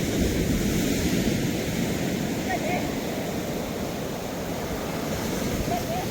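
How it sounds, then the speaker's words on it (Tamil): High sea waves roll onto the shore at Aliyavalai, a continuous broad roar of surf mixed with wind buffeting the microphone, steady and close throughout. "அலைகள் வந்து கூடின அலையாக இருக்குது"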